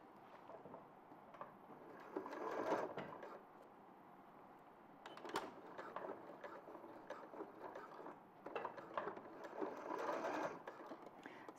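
A twin-needle sewing machine stitches a seam in quick, steady mechanical bursts with short pauses between runs, close and fairly quiet with no talk.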